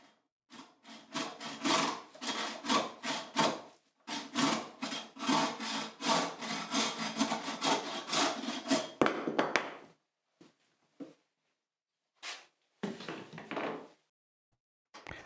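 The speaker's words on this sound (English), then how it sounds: "I'm just using a pretty rough crosscut saw for this" A rough crosscut hand saw cuts through a wooden shelf board in steady, close back-and-forth strokes for about nine seconds, then stops, with a few short, scattered strokes finishing the cut.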